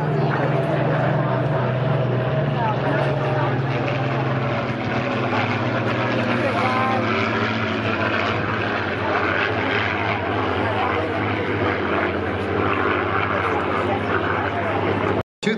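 A P-40 and a P-51 Mustang warplane at an airshow roar past in a steady, loud propeller drone that holds throughout, with a commentator speaking over the engine noise.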